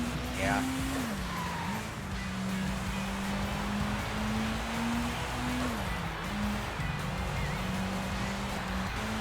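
Front-wheel-drive race car in the video game Sega GT Online, its engine droning steadily with pitch rising and dropping through gear changes and brief tire squeals, while someone talks over the game sound.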